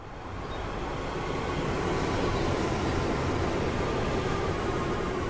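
A train rolls past in Train Sim World 5 on the West Coast Main Line, heard from low beside the track: a broad, steady rushing roar that swells in over the first second and then holds loud and continuous.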